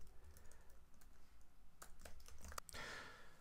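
Computer keyboard typing, a few quick soft keystroke clicks close by amid a quiet room with a faint breath, brief and low in level.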